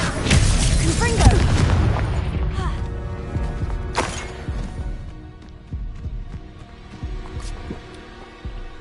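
A fire-blasting spell bursts in Hogwarts Legacy as a loud boom, followed by a second blast and fading, rumbling impacts and debris.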